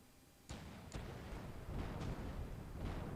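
Several booming cannon shots go off one after another in the pirate video game The Pirate: Caribbean Hunt, sharp reports followed by rumbling echoes, fairly distant and layered over a low background roar.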